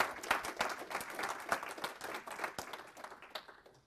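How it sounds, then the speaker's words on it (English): Audience applause for a system designer taking the stage at a monitoring conference talk, a dense burst of many hands clapping that stays steady for a few seconds before thinning out, with no talking over it. "Go ahead and put your hands together."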